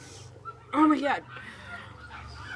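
A dog barks loudly in a short burst amid excited talk and laughter nearby, with a low steady hum underneath.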